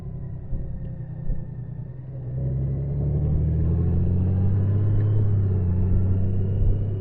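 A 2021 Honda Goldwing DCT motorcycle on the Col de Joux Plane accelerating gently, a low rumble that swells and holds as a smooth, steady engine drone, heard close with wind noise and no talk.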